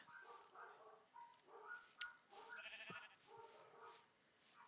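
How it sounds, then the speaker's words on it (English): Dogs barking and bleating-like yelps at a distance, several short faint calls in an irregular series with a sharp click partway through. "I can hear the dogs"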